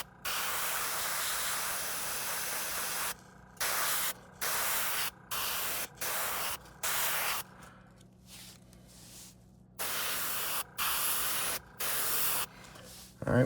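An airbrush sprays paint onto a golden bass topwater popper fishing lure in repeated hissing bursts, each lasting about half a second to a couple of seconds, separated by brief pauses, close and steady.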